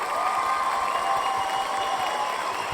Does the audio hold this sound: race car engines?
no